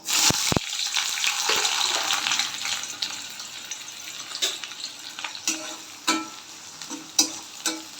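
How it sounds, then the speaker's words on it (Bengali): Chopped onions and black cumin seeds sizzle in hot oil, a loud, dense hiss right at the start that gradually settles into softer frying, broken by a few sharp clatters of a spoon or pan. "পেঁয়াজটা একটু হালকা ভাজা ভাজা করব"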